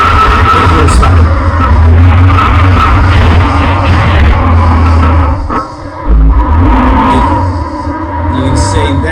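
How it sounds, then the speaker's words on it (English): A 4WD engine roars loudly at close range while the vehicle churns through beach sand. The engine noise is continuous and heavy, with a brief dip midway before it surges again, and there is some wind or tire rush beneath it. "I left the first part off for the audio so you can hear how loud my engine is under there"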